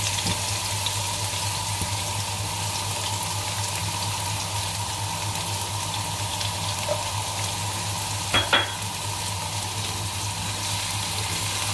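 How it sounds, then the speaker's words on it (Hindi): Garlic frying in two to three tablespoons of oil in a kadai, a steady close sizzle and crackle with a low hum beneath and a couple of brief clinks near the end, with no talking. "ये लहसुन हमने बिल्कुल ब्राउन नहीं करना, बस हल्का हल्का सा गोल्डन होगा"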